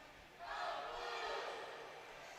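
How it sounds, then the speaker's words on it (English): A crowd in a humid indoor natatorium cheers at a women's water polo game, a distant, fairly faint swell of voices that rises quickly, peaks, then eases off. "The crowd cheering on their team"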